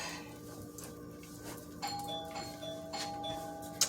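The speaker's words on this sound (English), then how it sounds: "You hear my doorbell?" A doorbell chimes several times in clear ding-dong tones, fairly faint and close, over a quiet background hum.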